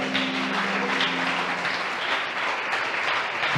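A church congregation applauds during a sermon, a full, steady round of clapping from many people that carries on without a break. Cheers mix into the room noise.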